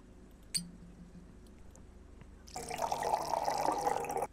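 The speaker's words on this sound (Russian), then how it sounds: "Так, сметану наливаем 150 миллилитров." Sour cream poured in the Cooking Simulator video game: a brief click and tap early on, then a steady liquid pouring sound lasting nearly two seconds before it cuts off.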